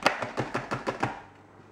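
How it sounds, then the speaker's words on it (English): Leftover tigernut pulp is scooped out of a container, giving about seven evenly spaced, close knocks and scrapes in a quick rhythm before it falls quiet. "So I'm just gonna scoop the rest of it out."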